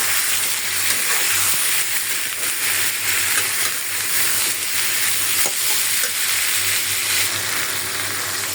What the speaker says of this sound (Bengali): বেগুন আর কাঁচকলাটা হালকা করে একটু ভেজে নিই, বেশি ভাজবো না, যেহেতু কলা আছে।